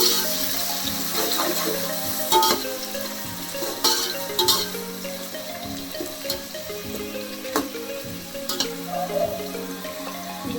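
Onions and green chilies frying in hot oil with cinnamon and cloves for chicken biryani, a steady close sizzle with occasional stirring clinks and scrapes, no voices.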